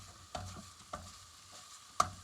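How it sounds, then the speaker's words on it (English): Soft, steady sizzling of sausage meat frying in a pan, with a few light scraping knocks as it is stirred; quiet and close. "You hear the meat sizzling?"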